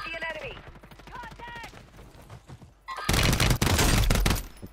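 A voice talks first, then gunfire erupts in a video game, a loud, dense burst of rapid shots that continues for over a second with brief gaps.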